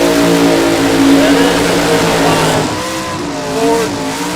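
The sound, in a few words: drag racing cars doing burnouts, tires squealing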